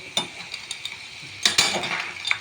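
Crab being stirred into a pan of fried ginger, garlic, tomato and shallots with turmeric, a soft sizzle under sharp clinks and scrapes of a utensil against the pot, with a busier cluster of stirring near the end.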